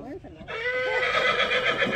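A horse neighs loudly and close by during livestock trailer-loading training, a rising whinny lasting over a second with a strong harmonic quaver.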